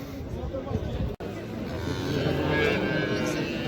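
A cow lows at a busy livestock bazaar in Shymkent, the moo rising under nearby speech and background crowd chatter.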